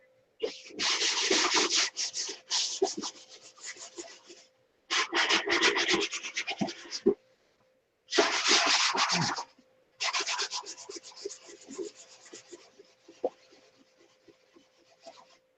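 Steady, scratchy hand sanding of a model airplane in several long bursts separated by short pauses, close up and fairly loud, with no talking.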